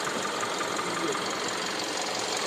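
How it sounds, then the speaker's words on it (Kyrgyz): A Kia Optima engine idling with its hood up, a steady even mechanical drone with a faint rhythmic ticking, continuous and close, with a voice talking over it. "Мотор ровно иштеп турат"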